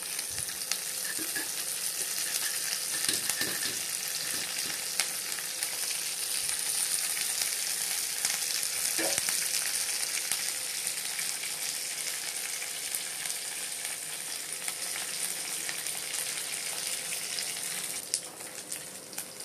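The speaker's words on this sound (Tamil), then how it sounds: "நல்லா தாளித்து அது பொரி வந்ததுக்கப்புறம்" Black pepper, cumin, fenugreek, mustard seeds and curry leaves temper in hot oil for sambar, sizzling steadily and close with faint crackles and occasional stirring clinks, no voices.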